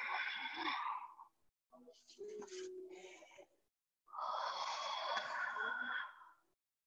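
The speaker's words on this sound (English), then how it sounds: "we're going to take three really nice deep breaths here" Three slow, deep breaths drawn in and let out during a seated hip and leg stretch, each breath a long, soft airy rush with pauses between, close and fairly quiet.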